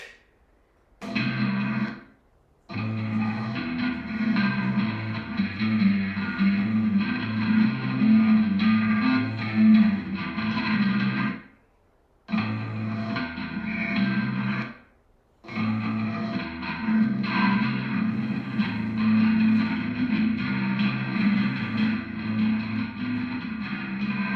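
Bass guitar played through a distortion effect, thick and muddy, with a steady rumbling low end and gritty upper buzz, loud and continuous apart from several brief silent gaps.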